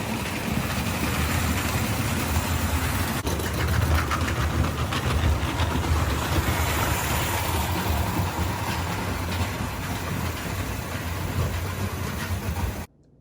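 A Mamod Mk 3 live steam model locomotive runs steadily and close by, hauling a heavy train of loaded 1930s gauge rail cars, with continuous chuffing, hissing and clattering wheels that stop abruptly at the end.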